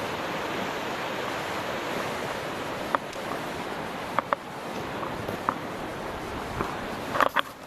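The Gallatin River rapids in Montana rush in a steady roar of whitewater, broken by a handful of sharp close clicks and knocks.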